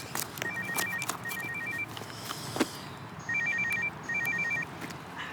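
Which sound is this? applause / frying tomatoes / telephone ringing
telephone ringing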